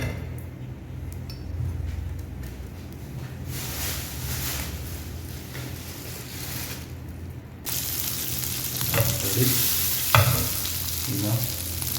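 Chicken liver fries in a little oil in a pan for a kheema roll filling. A steady crackling sizzle runs throughout, louder in the second half, with occasional stirring and clinks of utensils against the pan.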